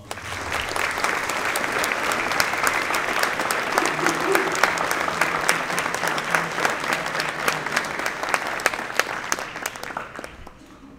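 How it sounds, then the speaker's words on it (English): Sustained, loud applause from a crowd at a high school football banquet, steady for about ten seconds before tapering off at the end. "they deserve one more big round of applause"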